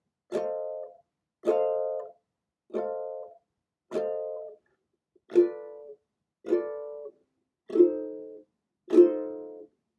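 Eight slow, evenly spaced ukulele chord strums ring out one at a time, each decaying before the next, close up and alone.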